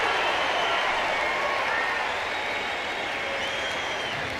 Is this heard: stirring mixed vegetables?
no